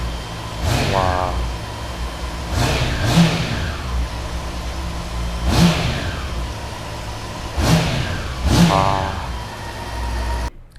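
A 2017 Honda CB400 400cc four-cylinder motorcycle engine revs up sharply several times with smooth, high-pitched blips between steady idling, recorded up close.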